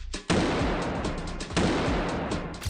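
Two sharp gunshots about a second apart, each a loud broadband crack followed by rumbling reverberation, set against a dense noisy background.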